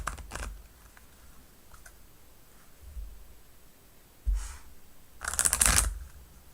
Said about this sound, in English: I'm going to shuffle a standard deck